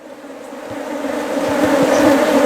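Honey bees buzz at a beehive during an inspection, a dense continuous drone from many insects close by, growing slightly louder throughout, with no voices.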